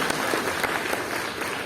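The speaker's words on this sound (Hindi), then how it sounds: "जोरदार तालियां मैडम के लिए होनी चाहिए" At a primary school's 51st annual function, the crowd breaks into a short, even burst of dense clapping from many hands, loud and unbroken for under two seconds.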